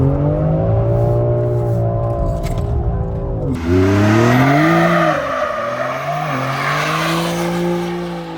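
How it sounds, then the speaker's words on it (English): A BMW X3M SUV drifts, its engine roaring with rising and falling revs while tires squeal loudly through the slide, close and sustained across the whole stretch. "Some drifting, some nice chill SUV driving."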